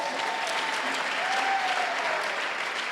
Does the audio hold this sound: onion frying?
no